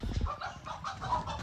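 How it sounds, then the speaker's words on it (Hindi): Rooster and chickens in a small pet-market flock for a mini zoo, clucking and squabbling close by in a busy stretch of overlapping calls and scuffles. "ये मुर्गे को मार रहा है, वो भाग जाते हैं"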